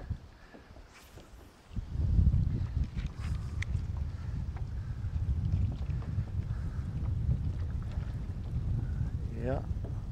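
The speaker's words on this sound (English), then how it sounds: "definitely a windy one" Low, steady wind rumble buffets the microphone after a quieter start, with bursts of talking and a few faint clicks on top, in the Boundary Waters Canoe Area in September.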